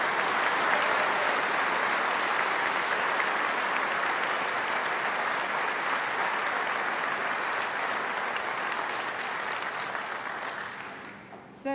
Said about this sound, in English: I wonder if we can just give them a brief round of applause for all that they've done.